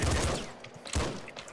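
Dual submachine guns in a video game fire in dense, rapid bursts, loud and close, pausing briefly before a second volley.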